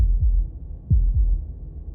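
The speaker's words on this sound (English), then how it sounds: "That was the sound of a heartbeat" A deep heartbeat effect from Slay the Princess throbs in muffled double beats, one pair and then another, low and close against a soft humming background.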